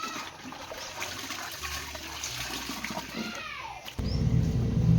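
Water splashes and pours during hand-washing of laundry at home, a sloshing, trickling stream that swells into a louder, fuller gush in the final second.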